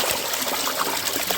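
Water trickles and drains steadily from soaked rice for chicken biryani, a close, continuous splashing dribble with no voices.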